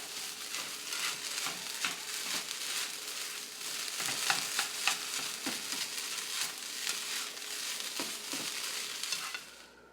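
Cauliflower rice and egg fry in a pan with a soft, even crackle and repeated scraping stirs against the pan, fairly quiet and close, with no voices.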